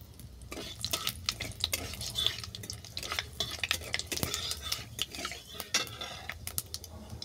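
Panch phoron and dried red chillies frying in mustard oil in a karahi, with a soft sizzle under repeated metallic scrapes and clinks of a spatula stirring against the pan, close and fairly quiet.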